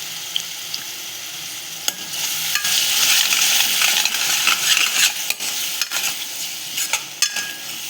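Onion and tomato puree sautéing in oil for a Maharashtrian shev bhaji, a continuous close sizzle broken by occasional spoon clicks and scrapes against the pan, no talk.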